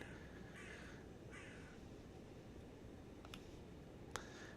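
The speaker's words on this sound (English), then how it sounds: "A bird?" A crow in the video game Loretta gives two short caws early on, followed by a couple of sharp clicks, all quiet over a low, steady background hum.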